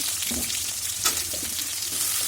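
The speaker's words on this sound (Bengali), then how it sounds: "এগুলোর সাথে আলুটাকে একটু ভালোভাবে আমরা নেড়ে নেব" Potatoes frying in oil with onions, bay leaf, cumin, sugar and spices, a close steady sizzle with soft stirring scrapes and an occasional brief clatter.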